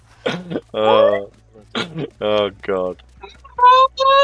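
A chicken in the game Dinkum clucks in a series of loud, close, drawn-out squawks and bursts, several in a row with short pauses, alongside a brief spoken exclamation.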